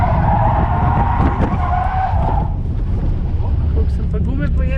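A drift car slides around a large roundabout in Logatec with sustained loud tire skidding and engine roar that taper off midway, followed by quieter rolling noise.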